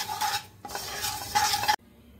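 Amaranth (cholai) seeds roasting in a pan over a medium flame, stirred with bursts of dry scraping and rattling in two passes. A short break falls between the passes, and near silence follows at the end.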